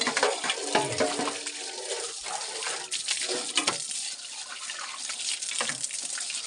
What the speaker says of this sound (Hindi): पानी आ रहा है रोज।